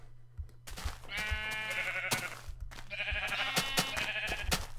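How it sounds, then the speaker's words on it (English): Sheep bleat in a Minecraft-style game, two drawn-out wavering bleats with small clicks and a steady low hum between, fairly quiet and with no talking. "I heard a sheep."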